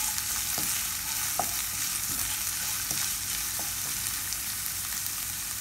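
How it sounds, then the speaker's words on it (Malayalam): Onion, chilli, ginger and garlic fry in a pan while being stirred. A steady close sizzle runs throughout, with soft scraping strokes of the spoon ticking at an even pace, and no voices. "ഇഞ്ചിയും വെളുത്തുള്ളിയും മുരിഞ്ഞതിന് ശേഷം എടുത്തു വെച്ചിരിക്കുന്ന സവാളയും മുളകും ചേർത്ത് ഇളക്കി കൊടുക്കുക"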